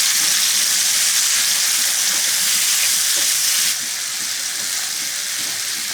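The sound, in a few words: stirring tomatoes with turmeric in a frying pan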